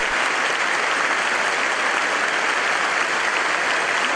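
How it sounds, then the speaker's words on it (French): A large congregation at an evening Bible study applauds a speaker, dense loud clapping that holds steady and unbroken throughout. "avec vous, un fort applaudissement"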